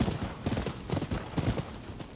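Rhythmic hoofbeats of a galloping horse ridden in the samurai action game Rise of the Ronin, steady clip-clop strides close and clear with no talk over them.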